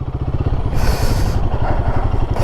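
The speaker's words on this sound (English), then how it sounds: "I love this bike. It revs itself up on its own." Royal Enfield Guerrilla 450 motorcycle engine idling and revving, a close, loud, rapid low thumping with brief bursts of higher-pitched revving.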